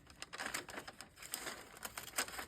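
Wrapping paper being trimmed across for a homemade gift bag, a quiet series of crisp cutting snips and rustles in an uneven rhythm, close and alone.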